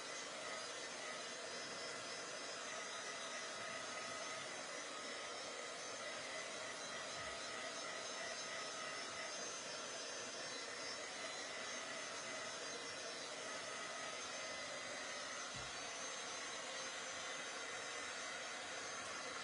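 A hair dryer blowing on decoupage paper over a Dollar Tree frame, a steady loud close whooshing hum that runs unbroken the whole time, with no speech.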